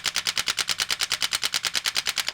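Rapid, evenly spaced bursts from a Blamcon Vyper V3 blaster, about eight shots per second, each a sharp mechanical snap with recoil, steady and close with no talking.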